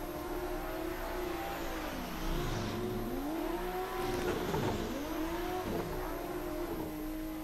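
Tyres scrub and engine revs swell and dip as a Toyota Supra drifts through a racing game, the pitch sweeping up and down in repeated arcs with no talk over it.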